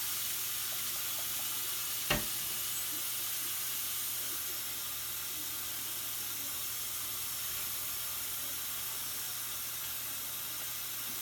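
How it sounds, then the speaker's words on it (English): Steady broadband rush of water pouring into a sink, constant and moderately close, with a single brief click near the start. "Put some hot water in the sink"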